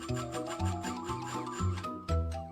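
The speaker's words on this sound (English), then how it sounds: "Mix the butter and sugar." A whisk beats butter and sugar together in a bowl for a homemade birthday cake, giving steady rhythmic scraping strokes about twice a second, close and soft.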